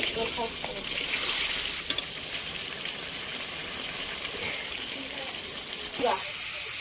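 Water goes into a pan of frying meat, giving a continuous close, bright sizzle and gushing hiss with occasional clinks from stirring, while a voice talks over it and the sizzle flares briefly toward the end.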